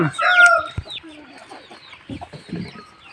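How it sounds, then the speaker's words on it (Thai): A chicken clucks loudly and close at first, followed by quieter scattered clucks and soft fowl calls, with no talk over them. "ไก่เอ้ยไก่ เลี้ยงลูกมาจนใหญ่ไม่มีนมให้ลูกกินลูกมันร้องเจี๊ยบ"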